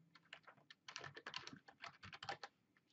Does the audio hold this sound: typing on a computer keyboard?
yes